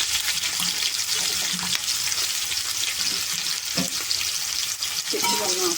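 Onions and green chilies sizzle steadily in hot oil in a pan over tempering spices, a dense continuous frying hiss with occasional stir clinks, close and loud throughout.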